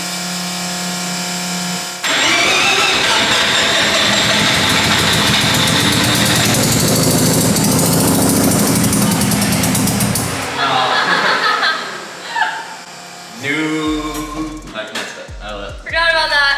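A three-rotor Mazda RX7 on a dyno cranks briefly, then catches and roars into a loud, raspy, steady run for several seconds before cutting off, followed by nearby voices and laughter.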